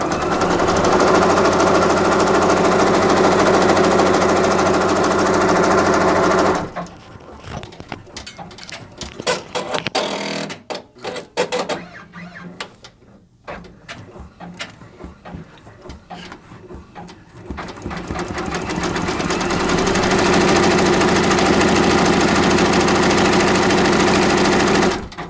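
A Brother Baby Lock Alliance embroidery machine stitches a hoodie with a steady, loud, rapid mechanical hum, broken midway by a stretch of irregular clicks and ticks before the continuous stitching drone resumes.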